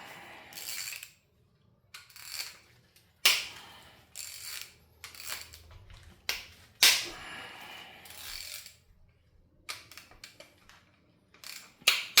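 Wrench cracking loose the bolts on an LS LY5 engine bottom end, a series of sharp metallic snaps and ratcheting clicks spaced a second or two apart, close and fairly loud against quiet.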